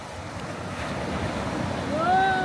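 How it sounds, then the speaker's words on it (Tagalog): High ocean waves at San Carlos Beach in Monterey, California, wash in as a steady, broad roar of surf mixed with wind buffeting the microphone, swelling slightly louder toward the end. "Mataas ng alon."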